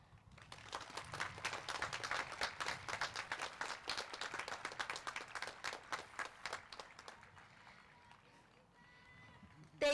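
An audience at a middle school eighth-grade promotion ceremony claps for families and faculty, a dense round of applause lasting about seven seconds before thinning to scattered claps and quiet.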